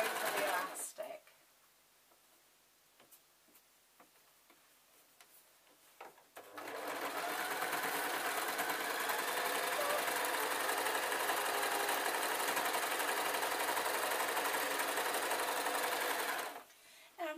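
A sewing machine stitches a saddle dust cover over elastic for a show jumping cob saddle, first a few short quiet bursts, then a long steady loud run of stitching that stops near the end.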